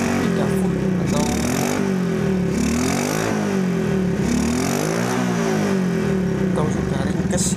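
A Honda C70 motorcycle engine runs steadily at close range with a loud, continuous throb, rising and falling slightly in pitch while someone talks over it throughout.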